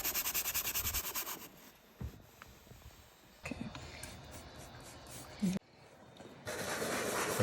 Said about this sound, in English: Tri-Clean and a good scrubber brush.